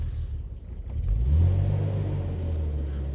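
A BMW Z3 engine with a new coil pack and sluggish throttle response idles low, then swells into a short rev that settles into a raised, steady drone. The sound is close and has no voices over it.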